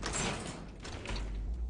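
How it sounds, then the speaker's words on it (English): A vault door grinds open in Fallout 4, a short mechanical sliding rumble with a low heavy thud building underneath, close and fairly loud with no voices. "Dog meat just opened the door too"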